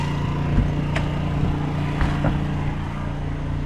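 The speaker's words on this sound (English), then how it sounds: "Even right next to it, it's still pretty quiet" A Predator 2500 inverter generator powering a window air conditioner hums steadily nearby, a low droning engine with a constant tone and faint mechanical ticks, no voices.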